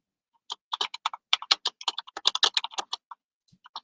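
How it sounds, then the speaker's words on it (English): Loud, clacky typing on a mechanical keyboard, rapid irregular keystrokes close up in a quiet room, trailing off into a few final taps. "You have a very loud keyboard, Jamie."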